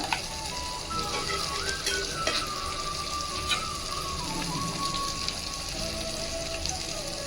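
Masala paste cooking in a pan for cashew potato kurma gives a steady close sizzle, a constant hiss throughout with a few faint clicks and scrapes, no talking.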